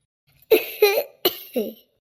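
A woman coughs up close, four quick, hoarse bursts in two pairs, with silence before and after.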